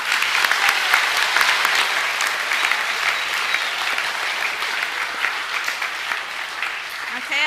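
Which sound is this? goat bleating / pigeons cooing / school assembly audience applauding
school assembly audience applauding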